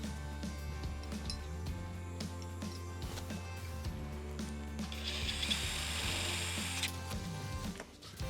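A hand ratchet loosens 10mm bolts on the frame of a TrailMaster Storm 200 mini bike, giving rapid, close clicking in repeated bursts, with a brighter whirring spin partway through.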